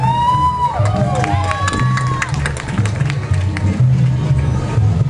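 Audience cheering, whooping and clapping for the Rio Bravo rondalla, a student string ensemble, at an event in Nuevo Progreso; a loud, continuous crowd roar with high shouts and whistles over steady applause.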